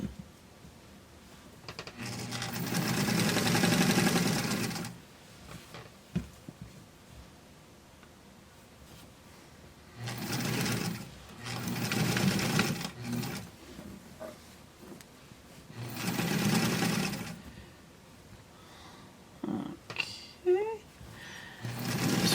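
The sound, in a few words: sewing machine sewing doll clothes seam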